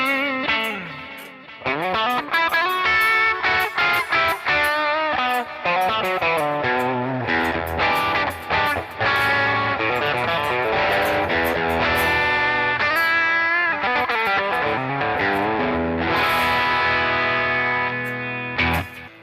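Distorted electric guitar through a Headrush Core, Prime or Flex Prime with distortion and delay on, playing busy riffs and chords with echoing repeats, loud, close and steady throughout.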